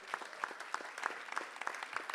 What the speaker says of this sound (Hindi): यहां पर सम्मान की तालियां गूंजनी चाहिए इस हॉल में।